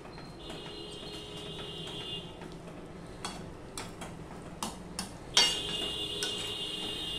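Fish curry is stirred in a metal pot with a spoon, producing soft scraping and several sharp clinks that come in uneven bursts over a steady background hum.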